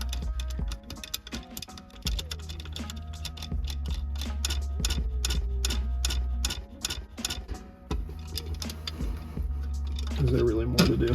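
A hydraulic e-brake fitting being threaded during installation gives rapid, regular ratcheting clicks close up, with brief pauses and faint mechanical noise.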